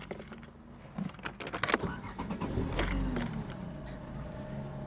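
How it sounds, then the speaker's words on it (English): Keys jangle and a Skoda Felicia Estate starts, then the engine settles into a steady low idle rumble close by as it warms up. "first I got to warm up the car."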